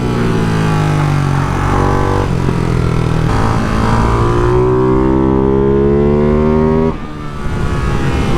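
A Ducati Hypermotard 698 Mono single-cylinder motorcycle with an aftermarket exhaust, revving and pulling through the gears while being ridden, loud and close, with pitch rising and then dropping at each shift.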